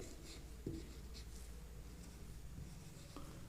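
Pen or chalk writing during a physics lesson on the electric field of a long charged wire: faint, soft scratching strokes with a couple of light taps against a low room hum.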